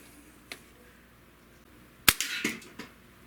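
A Walther lever action CO2 air rifle fires, heard as one sharp, loud crack followed by the clatter of the lever cycling and a couple of lighter clicks, with a faint tick earlier.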